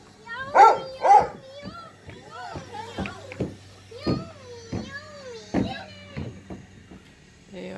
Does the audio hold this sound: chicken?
no